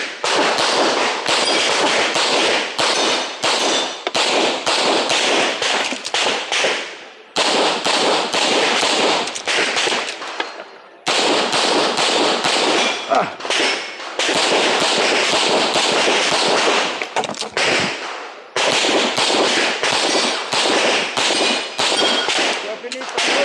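Rapid pistol shots crack out in dense bursts during an IPSC practical shooting stage of targets and steel poppers, loud and near, broken by brief pauses for movement or reloads.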